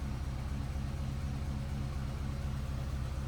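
A 1946 Ford Super Deluxe woody wagon's flathead engine runs at a steady idle, a continuous low rumble heard up close with no talk over it.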